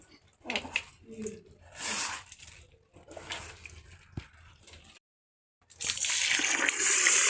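Water sloshes and splashes in a bowl as finger millet (ragi) is rinsed by hand, a brief pause, then a louder rush of pouring water.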